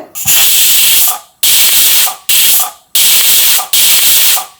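Five loud bursts of hissing steam from a pressure cooker whistle cooking Mappillai Samba rice porridge, each lasting about a second and separated by short silences, close and sharp.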